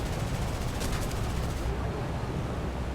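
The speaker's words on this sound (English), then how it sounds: "Now my gunner did start to fire automatically" A B-17 Flying Fortress gunner's machine gun in War Thunder fires as a rapid, steady automatic rattle over a loud, continuous engine drone, close and dense.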